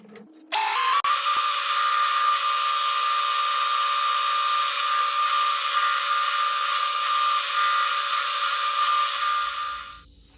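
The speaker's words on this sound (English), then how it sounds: "So we're gonna go ahead and drill these holes" A power drill whines steadily at high pitch for about nine seconds, boring continuously through wood after a brief start-up, then winds down.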